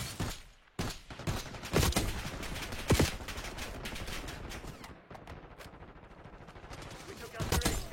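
Video game gunfire crackles in bursts of rapid shots throughout, with sharper single reports and a steady din of battle between them, loud and close, as a target comes under fire.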